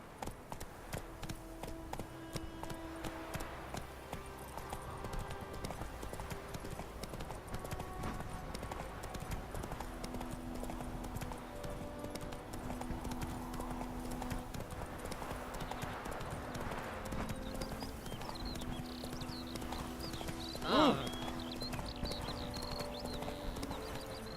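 Hoofbeats of Roach, Geralt's horse in The Witcher 3, gallop steadily across the whole stretch, a rhythmic clip-clop over a continuous game soundtrack and ambience, with a brief louder burst near the end.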